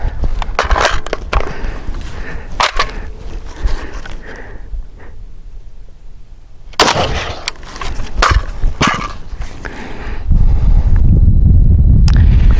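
A KelTec RDB rifle fires single rounds during a gas system test, sharp loud cracks scattered across the stretch with metallic action clatter and handling noise between them, ending in broader rumbling noise.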